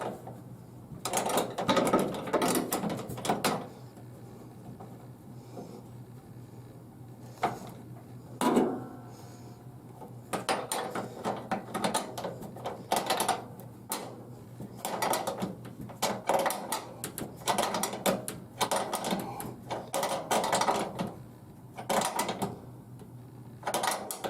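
A wrench works a nut while a battery hold-down strap is being fabricated: irregular metallic clicks, ratcheting and clattering taps in uneven bursts, close and fairly quiet, with pauses in between.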